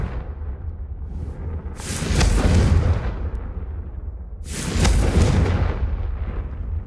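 Bombarda and Confringo spell explosions from the Hogwarts Legacy video game, heard as two heavy booming blasts a few seconds apart, each rumbling and then fading over a low background.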